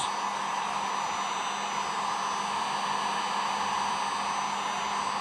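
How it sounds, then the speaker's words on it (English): A heat gun blows hot air onto the door trim of a 2007.5 Chevrolet Silverado, a constant, even whooshing whine with no breaks, moderately loud and close. "See if heating up the trim itself before we get to that point makes any difference."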